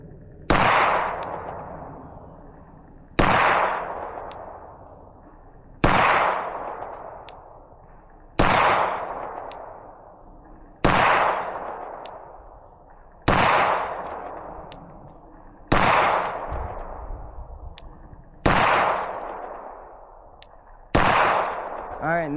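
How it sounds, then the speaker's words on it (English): Ten sharp rifle shots from a Platypus 2011 pistol loaded with 115-grain Federal ammunition ring out at slow, even intervals of about two and a half seconds. Each loud, close report decays into a ringing tail. "that's 10 shots from the platypus"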